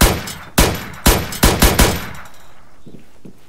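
Gunfire in the video game Arma 3, six loud, close shots in an uneven burst over about two seconds, each trailing off, then a few faint distant reports.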